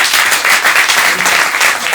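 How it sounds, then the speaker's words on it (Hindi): Loud, close applause for the panelists at a panel discussion session, a thick continuous roar of many hands clapping with slight surges, filling the whole moment. "सारे पैनलिस्ट के लिए जोरदार ताली से"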